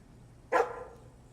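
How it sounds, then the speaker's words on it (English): Dexter the dog in Crime Scene Cleaner gives a single short, sharp bark, close and clear over a quiet background hum. "Bark."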